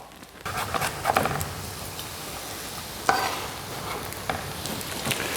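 Sliced carrot and onion tossed into a hot frying pan, an even sizzle with a few sharp clacks and stirring scrapes, heard up close with no speech.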